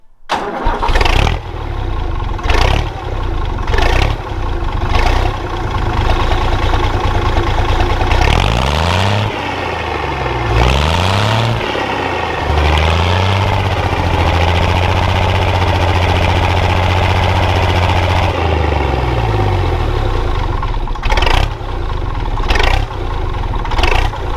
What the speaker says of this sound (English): The new vintage tractor.